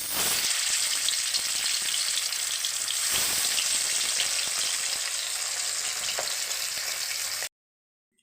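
Pieces of boal fish frying in hot oil produce a bright, steady sizzle with scattered pops and crackles, close and continuous until it cuts off abruptly near the end.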